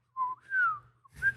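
A person whistles in imitation of an uncle's distinctive dad-style whistle: a clear tonal call with a steady note, then a long gliding tone, then a short rising note, loud and close with no talking.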